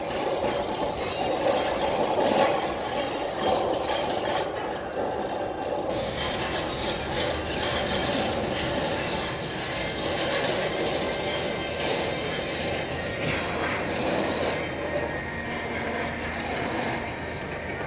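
A roller coaster train at Kings Dominion amusement park is shifted off the track onto a transfer section, giving a steady mechanical rumble with ratcheting clatter and rail noise throughout, moderately distant with no talking.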